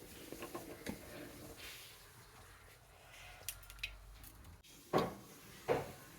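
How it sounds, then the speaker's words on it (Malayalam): Mustard seeds popping in hot coconut oil for a beans-leaf thoran. Soft, irregular crackles and a low sizzle, with two sharper clattering pops near the end. "വെളിച്ചെണ്ണ ചേർത്ത് നുള്ള കടുക് നമുക്കിതിലേക്ക് പൊട്ടിച്ച് കൊടുക്കാം കേട്ടോ"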